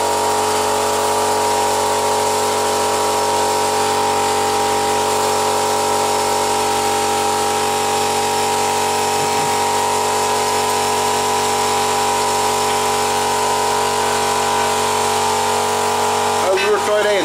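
A 2005 Stihl MS260 chainsaw, just serviced after a no-start fault, runs at a steady, loud, close droning idle for the whole stretch with no pauses.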